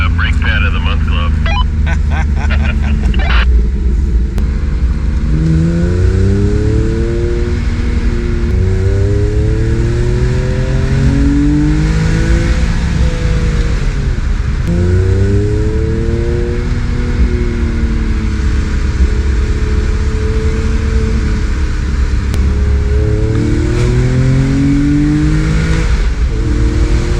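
A Mini Cooper driven hard on the Tail of the Dragon at Deals Gap, its engine rising and falling in repeated revs through the curves, loud and continuous with steady road and wind rumble underneath.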